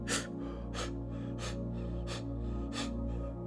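A voice imitates short, shallow breaths: five quick, sharp gasping inhales spaced evenly about every two-thirds of a second, close and clear.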